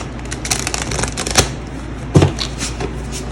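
A thick Rainbow Heart tarot deck being shuffled up close, with a steady riffle of card edges and two louder slaps where the stiff cardstock snaps together.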